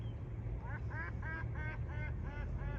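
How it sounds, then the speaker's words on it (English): Several ducks quacking in a repeated series at a park pond, a little distant and faint over steady outdoor background noise. "A lot of ducks out here today."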